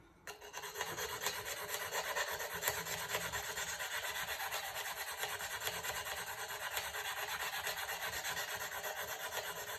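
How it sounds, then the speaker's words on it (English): A diamond file sharpens a tungsten carbide trimming tool with rapid, close rasping strokes, a dense, even grinding scratch that goes on steadily with no talking. "that's why you want to use the diamond file."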